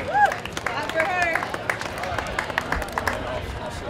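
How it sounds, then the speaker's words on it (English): A small outdoor crowd claps for the 15-year-old first-place girl at a 5K fun run, a steady patter of hand claps under a voice over a loudspeaker. "Clap for her."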